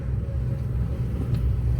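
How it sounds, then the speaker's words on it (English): A parked truck's engine idling nearby, a steady low rumble that holds even and loud throughout the short stretch, with no voices. "I mean, the truck is running just fine."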